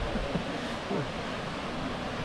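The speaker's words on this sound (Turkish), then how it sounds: "Şelalenin aktığı nokta hemen karşımda." Waterfall at the Emrud travertines in Mardin, a steady broadband rush of falling water heard close and continuous with no break or voices.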